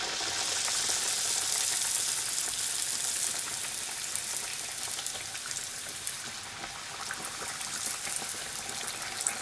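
Bokit dough frying in hot oil, a steady bright crackling sizzle that carries on continuously at moderate volume without any talking.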